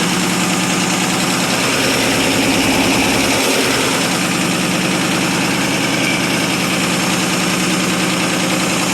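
A rough, rumbling 1947 Ford Super Deluxe flathead V8 idles steadily and loudly up close, its exhaust noisy and raspy from a cracked right exhaust manifold, with a brief low thump midway and no talking.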